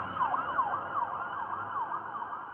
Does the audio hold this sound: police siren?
yes